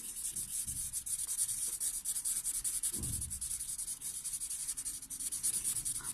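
A pencil colours in a shape on a paper maths worksheet, making a continuous close-up scratchy rubbing of quick back-and-forth strokes that pauses briefly once.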